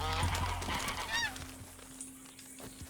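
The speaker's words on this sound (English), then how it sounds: "That was a bird." A bird call in the Red Dead Redemption 2 game world, a goose-like honking cry with a brief rising warble midway, heard fairly close over a steady low background hum.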